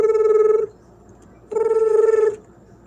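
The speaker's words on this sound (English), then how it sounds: "Hold on, the phone ringing." A phone rings on an outgoing call, two evenly spaced, buzzy ringback tones, each lasting under a second, with a quiet pause between them.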